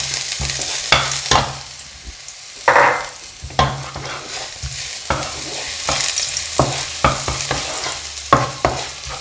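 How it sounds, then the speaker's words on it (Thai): Garlic frying in a little oil in a pan sizzles steadily while a utensil stirs and scrapes, sharp clacks recurring every second or so over the continuous crackle, close and fairly loud, with no voices. "ใส่น้ำมัน แล้วก็เจียวกระเทียมจ้ะ"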